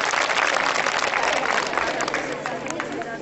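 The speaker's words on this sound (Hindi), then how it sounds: "तालियां इस नन्ही सी बच्ची के लिए।" A crowd at a girls' school science block inauguration in Chamba breaks into applause, a loud, dense wash of clapping that stays steady and starts to fade near the end.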